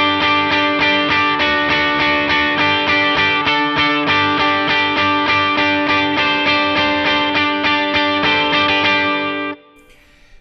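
Electric guitar with distortion and chorus effects strums rhythm chords high up the neck, moving chord notes around in a steady, loud pattern that cuts off abruptly near the end.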